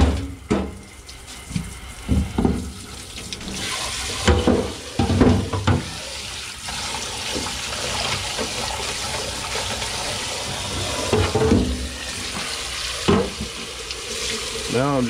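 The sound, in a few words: rinsing catfish fillets under running water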